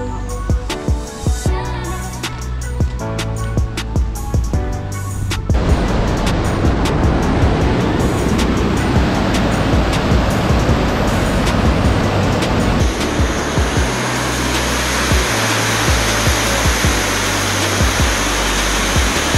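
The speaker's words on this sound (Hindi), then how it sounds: "इस साइड में जो बह रही है ये है शारदा नदी, और ये शारदा नदी पर बैराज बना हुआ है।" The Sharda river rushes at the barrage in a loud, continuous broadband roar that grows denser after a few seconds, with no talking over it.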